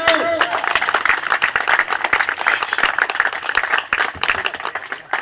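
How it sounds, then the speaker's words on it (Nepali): Crowd of Nepali attendees clapping at a farewell ceremony, loud and close, with dense sharp claps that surge and dip unevenly throughout and a brief tone at the start. "सबै हामी नेपाली दाजुभाइहरूले जोरदार तालीले स्वागत गरौँ"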